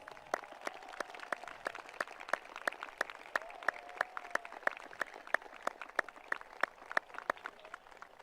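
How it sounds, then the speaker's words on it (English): Audience applause for alumni at a Swartz Creek High School commencement ceremony: steady, even clapping across a large crowd, with sharp individual claps standing out, and no talk over it. "Please stand if you're an alumni, and please give them a round of applause."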